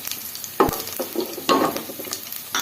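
Chana dal sizzles in a pan while being stirred, with a few sharp scraping clatters standing out over a steady crackle, close and fairly loud, and no voices.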